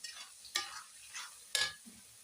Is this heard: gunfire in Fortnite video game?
no